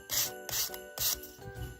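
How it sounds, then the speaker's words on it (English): Sanding block rubbed against the cut end of a craft piece for a Christmas decoration, giving four close, quiet rasping strokes in a steady back-and-forth rhythm, alone without talk. "Rub the end with a sanding block,"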